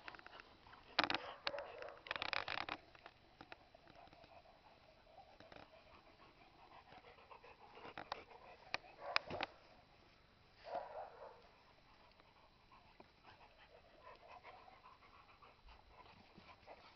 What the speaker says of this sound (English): The dog that you hear in the background is Ginger, that's the next door neighbour dog, who's not very happy.